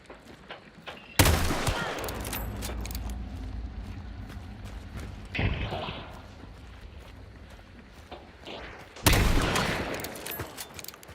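Gunfire in a shooter video game, with two loud sharp volleys of shots, near and punchy, at the start and near the end, plus a smaller burst in the middle over steady rumbling game ambience.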